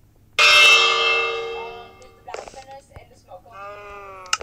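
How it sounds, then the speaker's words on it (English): A bell in Minecraft is struck once with a loud, bright clang that rings out and slowly fades. Softer clicks and short tonal game sounds follow near the end. "That's a bell."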